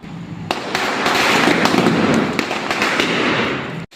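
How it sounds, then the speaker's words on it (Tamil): String of firecrackers bursting at New Year midnight in Trichy, a dense rapid crackle of loud pops and bangs close by, continuous for a few seconds before stopping abruptly. "அப்புறம் 12 மணி ஆனோடனே வெடியெல்லாம் வெடிச்சிட்டு இருந்தானுங்க."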